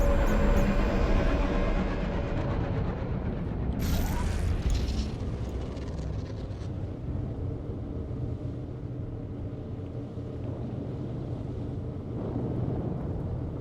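A tram ride in the video game Star Wars: The Old Republic, with a loud rumbling rail-car drone and a sharp metallic screech partway through before the rolling noise settles to a steadier hum.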